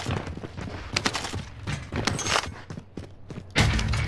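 Bursts of gunfire crackle repeatedly in Call of Duty Warzone on Rebirth Island, a mix of rapid volleys and single heavy shots at mid distance, with a louder close burst near the end.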